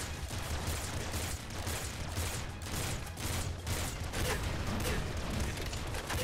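Line grenade explosions in the top-down shooter Nuclear Throne, a dense continuous barrage of rapid blasts and crackling booms packed tightly together, loud and sustained without a break.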